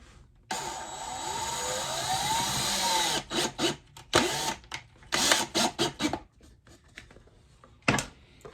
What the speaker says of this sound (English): Then we do some screws for the strings after I do this part.